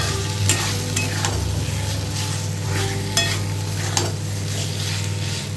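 Fried potatoes are stirred through masala for egg and potato dalna, a constant close sizzle broken by spatula scrapes and clinks against the pan, with no voices.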